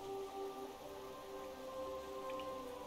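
Steady rain falling in the Hollow Knight video game, a soft continuous patter with faint droplet ticks under a low sustained musical drone, no voices.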